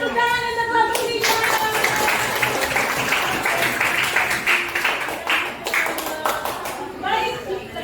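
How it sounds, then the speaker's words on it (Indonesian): An audience claps for group 3 in a classroom lesson, steady dense applause filling the room, with a voice heard at the start and some talk near the end. "Tepuk tangan untuk kelompok 3."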